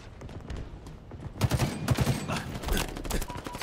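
Gunfire in Halo Infinite multiplayer, starting as a sudden burst of rapid automatic shots after a quiet second and going on as a dense, loud volley of cracks and thuds to the end.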